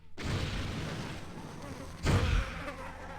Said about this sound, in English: we'll get rid of those bees